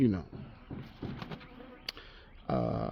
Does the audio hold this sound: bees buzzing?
yes